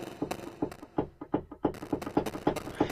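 Battery 4 drum pattern through a lo-fi effect with a low pass filter, giving quieter, muffled thumping hits in a quick steady rhythm that still carry some gritty upper harmonics, with no voices.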